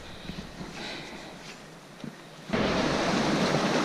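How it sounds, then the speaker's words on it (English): Waterfall beside a flooded spring canoe portage in Algonquin, heard as a steady broadband roar with wind buffeting the microphone, growing sharply louder and denser partway through as the rushing water comes closer. "So this is what we are portaging around. Beautiful waterfall."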